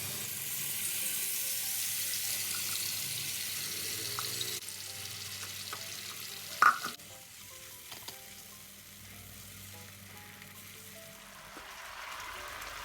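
Spices sizzle in hot cooking oil in a non-stick wok, a steady soft frying hiss with a sharp clatter of stirring partway through, fading to a quieter sizzle afterward.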